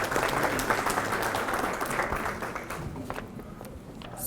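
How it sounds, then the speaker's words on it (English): An audience at a professional learning session claps in a round of applause, loud and dense at first, then thinning and fading over a few seconds. "Let's give ourselves a round of applause."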